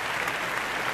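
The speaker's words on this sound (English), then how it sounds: "Hey, can I get a clap?" An audience claps together in a dense, steady burst of applause that fills the whole moment, with no voices over it.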